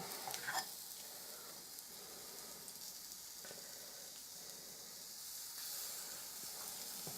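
Brownie batter sizzles steadily on the hot plates of a Hobbycraft brownie maker, a continuous close frying hiss with a few small pops near the start and no voices.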